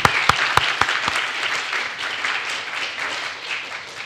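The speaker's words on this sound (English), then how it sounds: "Just give him an applause." An audience applauds a panel speaker with a few sharp, close claps at the start, then dense, steady applause that continues evenly throughout.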